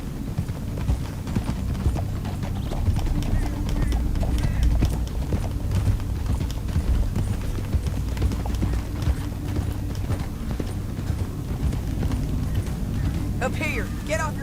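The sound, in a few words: horses galloping in Red Dead Redemption II video game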